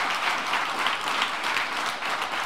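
Sustained applause from a church congregation, even dense clapping continuing at a steady level for the whole stretch, no voices over it.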